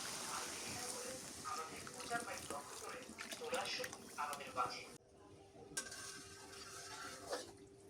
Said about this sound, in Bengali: কষানো হয়ে গেছে, পানি দিয়ে দিই।